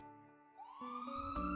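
An ambulance siren wails alone, its tone sweeping upward and holding steady, loud and close, over a low rumble of passing traffic.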